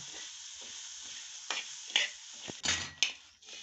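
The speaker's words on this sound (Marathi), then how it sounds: "आपण हे कुरमुरे अगोदर भाजून घेतलेले ना ते ह्याच्यावर टाकायची आणि मस्त असं परतून घ्यायचं" Pre-roasted puffed rice is stir-fried with spices in a pan. Soft rustling is broken by a few sharp scrapes and rattles from the spoon against the pan, close up, with no voices.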